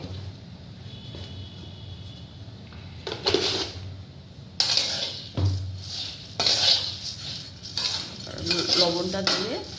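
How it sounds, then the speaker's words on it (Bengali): Puffed rice being stirred with salt in a metal pan, a scraping clatter of spoon against pan that comes and goes in a few louder bursts, with a voice speaking between them. "লবণটা দিয়ে একটু নাড়াচাড়া করে নেব"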